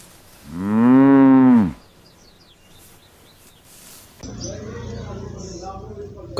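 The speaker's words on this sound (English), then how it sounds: "Wow, this is cow." A toy cow gives out one loud, drawn-out electronic moo lasting about a second, followed by quieter clatter and handling noise as toys are played with.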